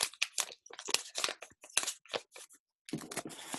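Sharp, crackly crinkling of a stiff plastic UK £5 banknote being scrunched in the hand, close up, in quick irregular bursts with a brief pause near the end.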